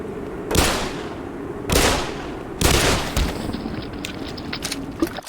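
Exploding pumpkins in Black Mesa's Xen levels go off as three loud, separate booming blasts about a second apart, each with a rumbling tail. Sharper crackling debris follows near the end, with no talk.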